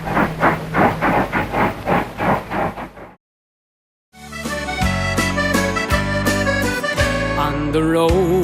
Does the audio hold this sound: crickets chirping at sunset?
no